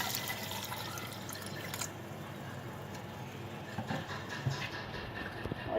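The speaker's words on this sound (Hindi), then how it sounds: "अब मैं इसमें पानी शामिल कर दूंगी।" Water pours into a grinder jug holding chopped peaches and sugar, a continuous splashing trickle with a few small clinks, moderately close and steady.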